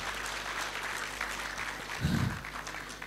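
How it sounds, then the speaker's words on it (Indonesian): An audience at a leadership talk show applauding BPR Nusamba Cepiring, a steady, moderately loud wash of clapping from a hall crowd, with a brief low thump partway through. "aplaus untuk BPR Nusamba Cepiring"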